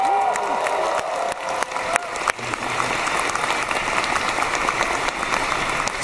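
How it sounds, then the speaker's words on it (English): Audience applauding at an MCM Comic Con panel, sustained dense clapping from a large crowd with some cheering, loud and steady for the whole stretch. "Can we give a round of applause, please?"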